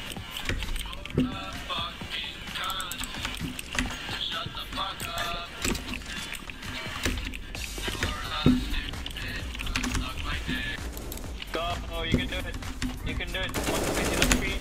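Rapid automatic gunfire in the video game CS:GO rattles in bursts and single shots across the clip, mixed with keyboard clatter and a player's talking.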